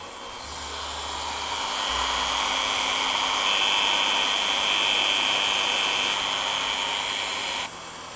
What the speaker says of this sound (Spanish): le he hecho el freno y ahora ya a taladrar